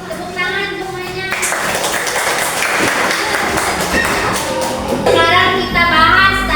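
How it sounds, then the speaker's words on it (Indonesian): A classroom of children claps together, a dense wash of hand claps lasting several seconds, loud and near, with a teacher's voice and kids' chatter at the edges. "Tepuk tangan semuanya."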